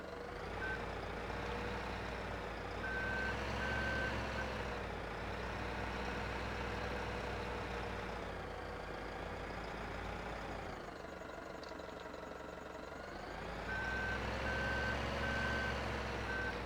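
A truck reversing in a farming video game set on a Scottish Aberdeenshire map gives steady repeating beeps over a low idling engine rumble, continuous and fairly close, with no talk.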